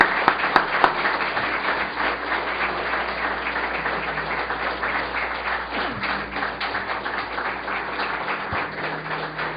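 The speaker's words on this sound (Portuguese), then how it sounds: "Y vamos a recibirlo con un fuerte aplauso" An audience breaks into sustained applause welcoming a guest speaker at a religious gathering, a dense wash of clapping that starts with a few sharp claps, then holds steady and even for several seconds.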